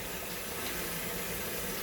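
Tap water runs into a kitchen sink as a protein skimmer cup from a reef aquarium is rinsed out, a steady close hiss and splash with no talking.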